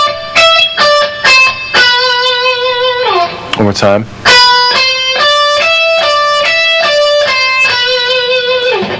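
Electric guitar plays a rapid rock string-crossing sequence lick with alternate picking, bright harmonic notes in quick repeating patterns, briefly interrupted by a short spoken phrase midway before the lick resumes, loud and close.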